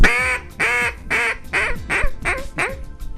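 A Buck's New Baby Buck duck call imitates a raspy, lonesome hen mallard, played close and loud as a rhythmic series of about seven nasal quacks that step down in pitch.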